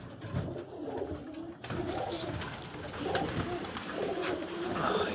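Pigeons coo continuously through an evening feeding, a dense, close chorus of low throaty calls with occasional rustling and faint higher chirps.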